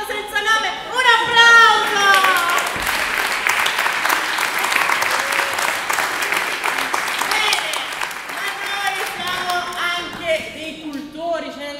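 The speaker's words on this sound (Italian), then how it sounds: "Un applauso." An audience claps for a children's class performance at an Italian school recital, a burst of steady, dense applause that swells early then fades, heard amid children's and adults' voices talking.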